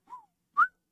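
A person whistles an imitation of a bobwhite quail call: a soft, short low note followed by a louder, rising sharp note, clear and close with no talking.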